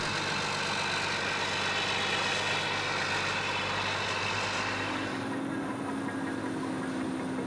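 A VAB armoured troop carrier's heavy diesel engine idles close by with a loud, steady rumble, its tone thinning and easing somewhat toward the end, with no voices over it.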